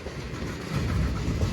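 A CSX freight train rolls past at a crossing on Lake Avenue in Blasdell, NY, a continuous low rumble with faint rhythmic rail clatter that builds slightly, with no voices.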